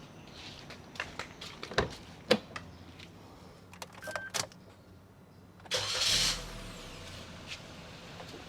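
Suzuki Jimny engine cranking and catching near the end, preceded by scattered clicks and knocks; the start is a short loud burst that settles into a low, steady idle.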